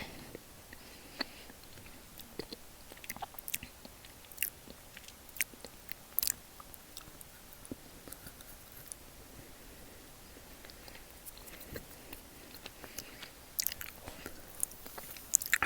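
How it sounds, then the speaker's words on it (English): Close, quiet chewing on chocolate, with soft crunching bites and wet mouth clicks scattered irregularly over about fifteen seconds in a still room, no talking. "just a little bit of chewing on chocolate"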